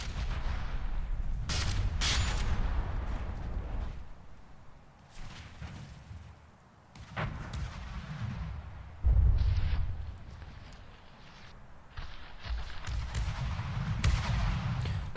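Main gun turrets fire in From the Depths, with sharp heavy bangs and cracking volleys at irregular intervals and deep booming impacts rolling between them, loud and close.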